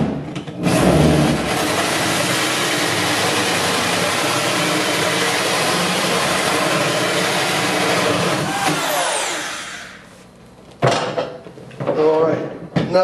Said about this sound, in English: now we've drilled out a hole large enough for the version 8 cell